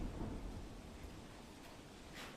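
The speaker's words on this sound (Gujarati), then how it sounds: "ત્યારે સતત વરસાદ પડી રહ્યો છે" Heavy monsoon rain pours down with rumbling thunder in Botad, Gujarat, where roads are waterlogged: a dense, steady hiss of rainfall under a low, rolling rumble, fairly faint and with no voices.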